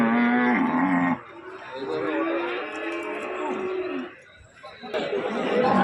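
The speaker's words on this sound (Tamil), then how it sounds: "நாட்டு மாடுகள் நிறையா வந்திருக்கு." Native cattle at a busy livestock market in Erode: several loud, drawn-out moos rise over the crowd's chatter, with people talking and some laughter throughout.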